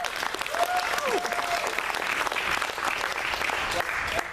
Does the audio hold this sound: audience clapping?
yes